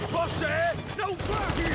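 Gunfire from the video game Gears 5, a burst of rapid shots running through most of the stretch under overlapping voices and game effects.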